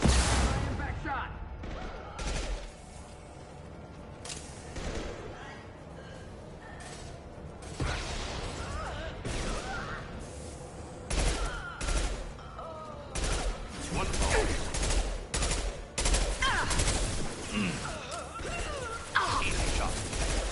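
Bursts of gunfire from Mass Effect 2 combat crack repeatedly in irregular volleys, with whooshes and impacts mixed in and a player talking over the action.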